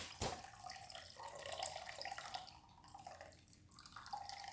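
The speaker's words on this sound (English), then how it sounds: "You strain it." Homemade almond milk strained through a cloth strainer, liquid dripping and trickling steadily into a container, close and fairly quiet, with no talking.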